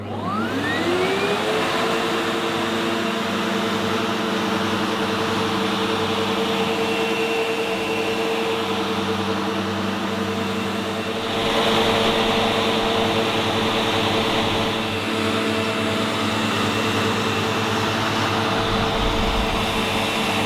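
A Sebo X7 Automatic Excel Plus upright vacuum cleaner runs steadily in its self-adjusting mode, its motor spinning up at the start and then holding a loud, continuous whine and hum with no one talking.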